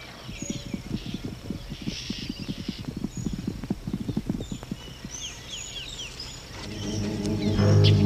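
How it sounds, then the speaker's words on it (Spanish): Horse hooves clip-clop in a quick, steady rhythm on a hard surface, close and loud, in a 1976 Cuban film set at a sugar mill, with birds chirping and a low rumble rising near the end. "Caballo."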